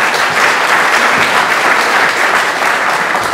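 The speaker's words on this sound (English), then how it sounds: "Round of applause again for Colin, please." A conference audience claps loudly and continuously after a talk, a dense, even wash of applause from start to finish.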